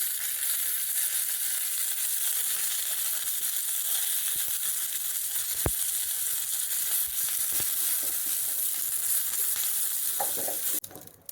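Mustard seeds, curry leaves and a dried red chilli tempering in hot oil, a loud, even sizzle held close throughout with a sharp pop partway and a rattle as it ends.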